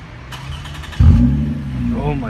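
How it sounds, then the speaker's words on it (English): A 2005 Toyota Camry with a dual high-flow exhaust revs up abruptly after a quiet moment, its loud, close engine roar holding steady and then climbing, with a voice briefly heard before it. "Very loud now, which is what a car should sound like."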